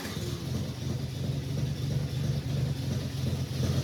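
Engine of a 1965 Ford 2000 tractor starting and running with a steady low rumble, fairly loud and close, with no talk over it.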